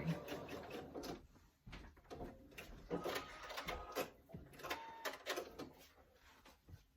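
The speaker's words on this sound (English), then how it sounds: "I sewed it straight across" A sewing machine stitches a straight seam across a fabric tissue box cover, a close, busy mechanical whirring that runs in bursts with brief pauses throughout.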